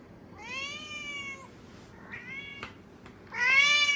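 A cat meows several times in a row, loud and close, the calls stretched and wavering over steady indoor background noise, with a short quieter mew in between.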